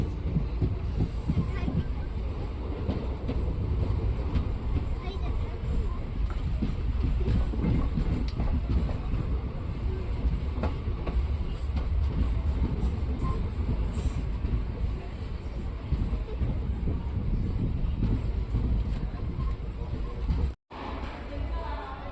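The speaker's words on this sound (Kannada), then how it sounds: "ಫ್ರೆಂಡ್ಸ್, ನಮ್ಮ ಟ್ರೈನ್ ಈಗ ತನಕಲ್ಲು ರೈಲ್ವೆ ಸ್ಟೇಷನ್ಗೆ ಎಂಟ್ರಿ ಆಗ್ತಿದೆ." A passenger train on the Guntakal to Tirupati route rolls into Guntakal railway station, a continuous loud rumble and clatter of wheels heard from on board, with faint squeals and voices under the din.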